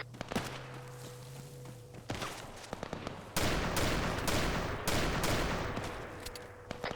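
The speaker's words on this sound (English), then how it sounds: "50 cal bullets!" Video game 50 cal machine gun fire, loud close bursts of rapid rounds and heavy thuds in a military battle, with short gaps between volleys and a low hum under the opening seconds.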